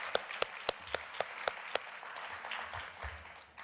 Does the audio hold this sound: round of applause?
yes